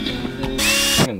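A cordless drill whirs at steady speed, its motor pitch rising briefly into a louder, higher whine before winding down, close and mechanical.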